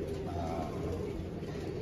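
Pigeons coo steadily in a loft kept by a Pakistani pigeon fancier, low soft murmuring layered throughout against continuous background noise.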